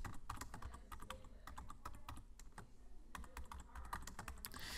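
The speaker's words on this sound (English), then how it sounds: "so I'm just typing away" Quiet, close typing on a computer keyboard while writing in a word-processing document, with rapid irregular clusters of soft key clicks and brief pauses between bursts.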